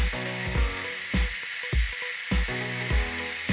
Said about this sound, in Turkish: Buhar dışarı çıkıyor.